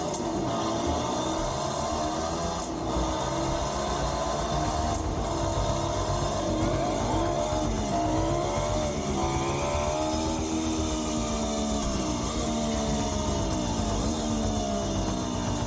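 An electric motorcycle plays a synthesized 250cc two-stroke engine sound, a continuous, rough, buzzing engine note that rises and falls as if revving, close and steady throughout.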